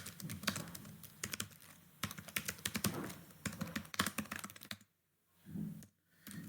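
Someone types a title on a computer keyboard, producing quick bursts of crisp key clicks close by, then a brief pause and a few softer taps.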